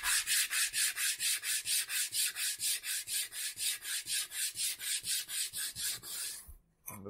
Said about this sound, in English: So I got this sanding block, and yeah, it stays on there.